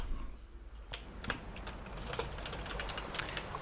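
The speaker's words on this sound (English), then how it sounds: "My keyboard's slightly off to the side. It makes it hard to type when I'm doing this." Typing on a computer keyboard, faint scattered keystrokes and clicks tapping irregularly beneath a constant low background hum.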